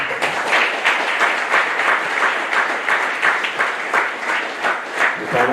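An audience at a book presentation evening in Gosier applauds to welcome Pierre-Yves Chicot, sustained dense clapping from many hands filling the room at a steady level for the whole stretch.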